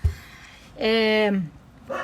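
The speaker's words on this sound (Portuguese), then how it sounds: "Vocês estão ouvindo o cachorro?" A dog barking somewhere nearby during a home live broadcast, a single drawn-out bark or howl-like yelp between bits of a man's speech.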